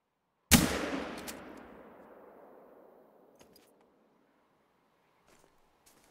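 A single sharp, loud gunshot in the video game theHunter: Call of the Wild cracks out, then its echo rolls and fades over a few seconds, followed by faint distant clicks.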